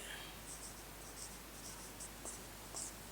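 Pen or pencil scratching across paper while working through trigonometry equations, faint, quiet strokes in short bursts with a steady low background hum.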